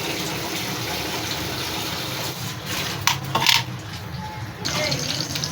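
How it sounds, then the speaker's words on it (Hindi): Chicken stock for a casserole pilau poured through a strainer in a home kitchen, a steady close pour of liquid running several seconds with a brief louder splash midway, alone without talk. "स्टॉक को छान लेंगे।"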